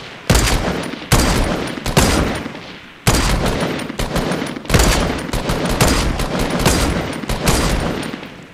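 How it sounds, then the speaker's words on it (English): Gunfire from a Fortnite sniper rifle: loud sharp reports, several shots in quick succession with dense crackling bursts between them, in a continuous heavy battle din. "I got two more shots left on this sniper"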